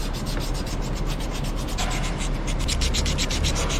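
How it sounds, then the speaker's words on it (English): Emery cloth rubbed hard over rough gasket edges on a turbo actuator mating surface, a loud continuous rasping scrape with quick back-and-forth strokes, close up and with no talking. "Sand down these rough edges where the gasket met the surface."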